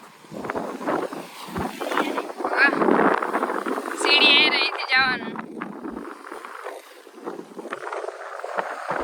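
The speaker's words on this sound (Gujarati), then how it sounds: "પવનને વધારે અવાજ આવતો હોય કેમ કે પવન વધારે હે અહીંયા" Strong wind gusting at a seashore, rumbling and buffeting the microphone in loud uneven surges while people talk nearby.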